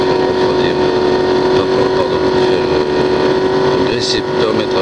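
Engine of a 1965 Ford GT race car at Le Mans, a loud steady high-rev drone held near 6000 rpm from inside the car, with continuous wind and road roar.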